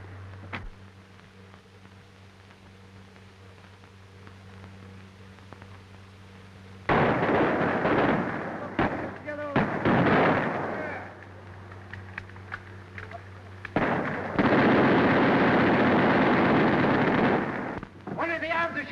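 Gunfire in a battle scene from an old film, with loud bursts of shots and blasts arriving in dense clusters after a quieter opening, mixed with shouting and commotion.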